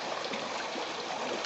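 Water rushes steadily through a metal rotary drum screen at Avintaquin Creek, a dense, continuous hiss and wash that sounds close and even throughout.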